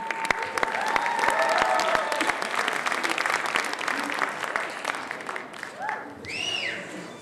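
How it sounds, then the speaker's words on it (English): Audience applause after a Michael Jackson medley finale act, a dense burst of clapping that swells and then thins out, with crowd voices and a few whoops near the end. "Please give a big, big round of applause for the Michael Jackson medley."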